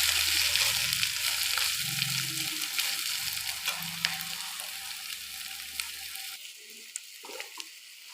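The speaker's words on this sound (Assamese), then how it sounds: "এতিয়া মই তিতা দি দিম আৰু ভালদৰে লাৰি দিম।" Bitter gourd stir-fries in a pan with a steady, close sizzle and crackle, with faint scraping from stirring. The frying fades slightly toward the end and gives way to a few soft clinks.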